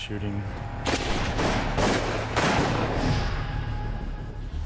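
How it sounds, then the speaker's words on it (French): Gunfire rings out in a documentary reenactment of a shooting, a rapid cluster of loud sharp bangs with echoing tails over a few seconds, set against a low background drone. "Quelqu'un a donné le signal et les Canadiens ont tiré."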